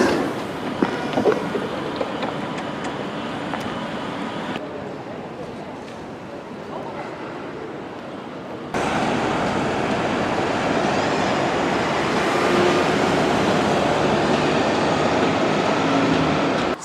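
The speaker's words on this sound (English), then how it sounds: "we're now riding into Birmingham New Street Station." Passenger train running into Birmingham New Street Station, a steady rumbling ride noise that drops quieter midway then returns louder and fuller with faint rail squeals, with a voice talking briefly near the start.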